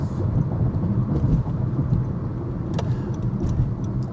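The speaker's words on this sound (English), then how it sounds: "the road noise is not terrible here in the Honda." Cabin road noise inside a 2025 Honda HR-V on the move, a steady low rumble of tires and wind with faint ticks and no talking.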